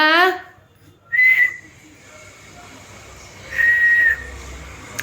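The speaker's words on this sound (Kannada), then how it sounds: "ಯಾರಪ್ಪ ಶಿಳ್ಳೆ ಹೊಡೆದಿದ್ದು?" A person whistles two short, sustained high notes, each about half a second long, separated by quiet room background, after a brief burst of voice at the start.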